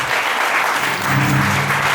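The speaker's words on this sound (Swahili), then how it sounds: "Mpe Yesu makofi." A church congregation at a Sunday prayer service bursts into loud, dense applause that holds steady from start to finish, many hands clapping together up close.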